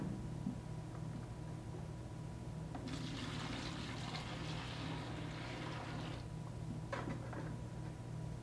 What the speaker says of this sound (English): Then, rinse and sanitize the bucket.